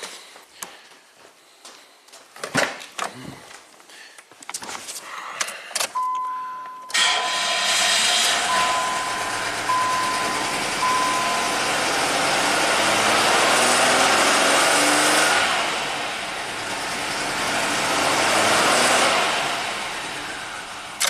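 Several sputtering cranks and brief bursts come first, then a 1990 Buick Regal V6 with severe low power catches and roars loudly, rising and falling as it is revved a few times.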